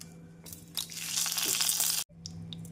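Bay leaf and cardamom dropped into hot ghee and refined oil for tomato biryani, a loud crackling sizzle that builds and holds for over a second, then cuts off abruptly, with softer crackles resuming after.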